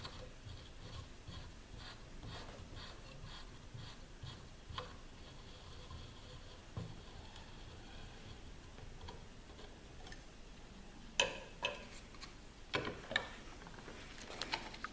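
A hand tap cutting threads into very hard, brittle steel in a G clamp gives faint, steady ticking and scraping with a few sharper clicks near the end, close up and without talk.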